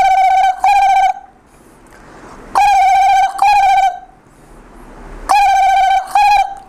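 A voice imitates an STD phone ringing as heard from outside, producing three loud, close double rings with a tonal, buzzy warble and short pauses between them, with nothing else heard.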